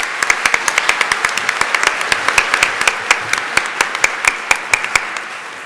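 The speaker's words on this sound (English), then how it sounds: "Please give her a warm round of applause." Applause at a public utilities commission presentation, many hands clapping together with distinct sharp claps standing out in a fairly even rhythm, loud and close throughout.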